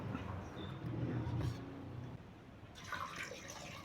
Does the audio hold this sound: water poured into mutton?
yes